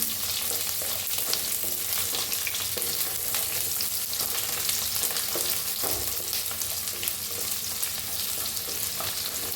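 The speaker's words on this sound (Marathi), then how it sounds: "थोडंसं अद्रक बघा थोडा कांदा कापून घेतलेला भाजून घेऊया" Garlic, ginger and chopped onion fry in a hot pan for cabbage Manchurian, a loud, continuous close sizzle with crackling and the occasional stir, and no voice over it.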